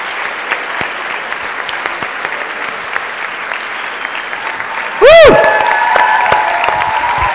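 Audience applause at a live session event in Pärnu, a steady roomful of clapping throughout, followed by a sharp harmonic whistle of microphone feedback that rings on near the end.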